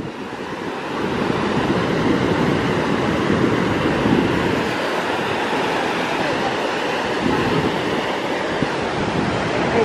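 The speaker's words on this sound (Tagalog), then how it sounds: "Look at the waves over there." Ocean surf rolling in at Piha Beach on New Year's outing, a steady broadband wash of waves and wind with no distinct individual breaks, fairly loud and continuous throughout.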